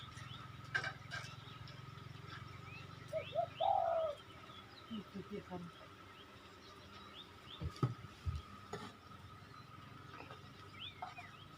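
Wild-caught spotted dove in training giving a few soft coos, faint and somewhat distant, over quiet outdoor background with occasional small clicks and chirps.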